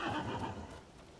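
A horse neighs in the video game Rise of the Ronin, a short whinny that is loud at first and trails off over about a second, with no talk.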